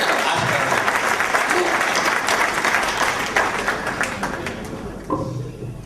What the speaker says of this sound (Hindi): आइए 3 नामों से मिले इस कवि का सम्मान करें जोरदार तालियां बजाकर